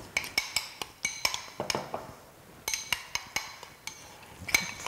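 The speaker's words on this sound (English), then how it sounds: "Now we just mix this together." Metal spoon clinks and scrapes against a bowl while lemon zest and coriander paste are mixed, giving a quick run of sharp, close taps and clatters in uneven bursts.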